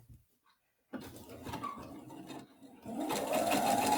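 A sewing machine stitches a fabric casing on a scrubs bag with French seams, running steadily and close after a second of near silence, its whirring growing louder and busier toward the end.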